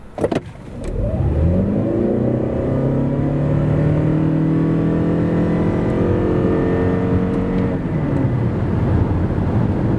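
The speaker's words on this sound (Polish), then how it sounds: "maksymalnie wciskając prawy pedał, tak wygląda przyspieszenie samochodu od zera do setki" A Lexus NX 450h+ plug-in hybrid with a 2.5-litre engine and 309 hp accelerates flat out from standstill to 100 km/h, its engine note rising steadily and droning loudly throughout before easing off near the end.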